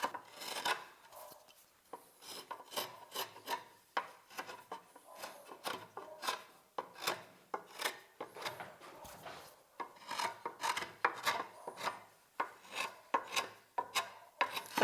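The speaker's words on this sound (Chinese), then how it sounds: "现在再给它导个圆角" Hand-rounding the edges of a wooden stool leg with a spokeshave, knife or chisel: a close, steady run of short rasping strokes in an uneven rhythm, each scrape rising and falling, with no talk.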